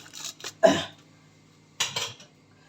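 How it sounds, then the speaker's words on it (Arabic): Eggs and sugar mixed in a bowl with a spoon, giving a few short clinks and scraping strokes in two separate bursts with quiet pauses between, close-up. "ندخل السكر في البيض مليح"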